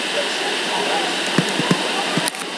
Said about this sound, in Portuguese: Como é que caiu água aqui?